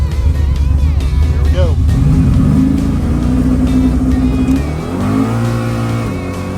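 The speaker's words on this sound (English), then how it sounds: "After a quick test launch down at the test spot and a little bit of a burnout, I told Addy to go ahead and drive the Malib" A low-mileage Buick T-Type revs hard for a test launch and burnout, its engine roaring loudly with rising, falling pitch sweeps and tire noise, while people talk over it.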